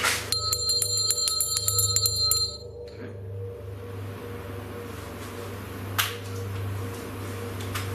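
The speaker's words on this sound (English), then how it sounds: "Let's just ring the bell and see if it reacts." A bell rings in rapid repeated strikes for a couple of seconds inside an old mansion during a ghost hunt, then a quiet room tone follows, broken by a single sharp tap near the end.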